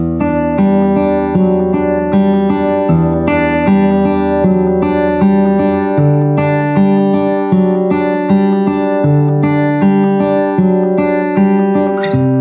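Fingerpicked steel-string guitar in a steady four-note thumb-middle-index-middle pattern, ringing bass notes under repeating treble plucks, played up close and alone with chord changes every few seconds.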